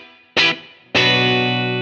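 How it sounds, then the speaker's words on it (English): Electric guitar through a Keeley Dark Side pedal's tape slapback delay set to one repeat: a short plucked note, then a louder sustained chord ringing out, with a slightly distorted, echoey tone. "we get that nice echoey kind of thing"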